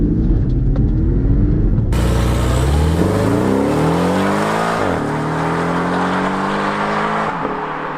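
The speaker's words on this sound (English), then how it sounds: "So does the new 718 turbocharged car sound good?" A turbocharged Porsche 718 engine revs hard and accelerates, its loud rising drone climbing through the gears with a brief dip between shifts.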